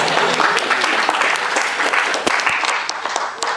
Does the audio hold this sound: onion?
no